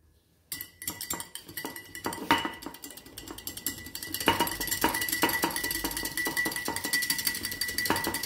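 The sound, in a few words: whisking marinade with olive oil in a bowl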